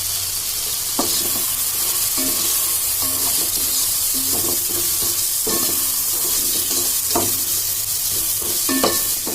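Biryani masala frying in a pan gives a steady close sizzle, broken by repeated scraping clinks as a spoon stirs it every second or so.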